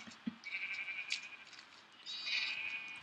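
Sheep bleating in the video game Minecraft on a sheep farm: two drawn-out, wavering bleats about two seconds apart, clear and fairly close over quiet background noise.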